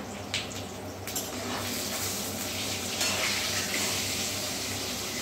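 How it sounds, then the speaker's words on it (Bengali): Cut potatoes sizzle in hot oil in a wok, a steady dense crackling hiss with occasional stirring clatters and small bursts, close and continuous without speech. "তেলটা গরম হয়ে গেছে, এবার প্রথমে আমরা কেটে রাখা আলুটা ভেজে নেব"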